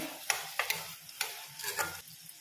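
Chopped green chillies and tomatoes stirred in a hot pan, giving several quick scraping stirs over a soft, steady sizzle, close and clear, with no voices.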